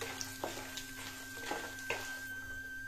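Peanuts, chana dal and urad dal frying in oil for a tempering, with a steady soft sizzle and a few light stirring clicks from a spoon against the pan, close and fairly quiet.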